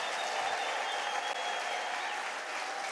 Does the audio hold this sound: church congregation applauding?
yes